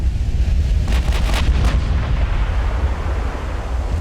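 Naval gunfire in Ultimate Admiral: Dreadnoughts: shells striking a ship's stern deck, a cluster of sharp impacts about a second in, over a constant heavy low rumble of battle.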